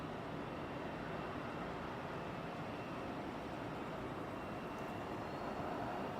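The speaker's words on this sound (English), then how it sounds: "while we see this guy taxiing, we have a Delta that's lining up as well" A Delta Airlines A300 airliner taxis at Sky Harbor airport, giving off a steady, faint jet engine whine and broadband roar heard from a distance, unchanging throughout.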